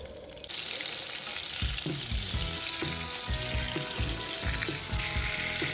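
Butter and a little olive oil sizzle in a frying pan with a bright, continuous hiss close by, while soft scraping knocks of stirring repeat underneath.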